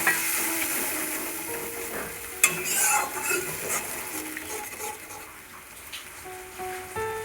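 Mustard sauce with katla fish frying in a pan, giving a soft sizzle with scraping and clinking as it is stirred a few times, close and moderately loud.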